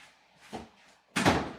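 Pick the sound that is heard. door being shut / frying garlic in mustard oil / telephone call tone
door being shut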